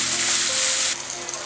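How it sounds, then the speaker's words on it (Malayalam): Chopped tomatoes with salt sauté in hot oil for a dal curry, giving a loud, close, steady sizzle that drops to a softer hiss partway through. "ഈ തക്കാളി ഒന്ന് വഴന്ന് വരണം."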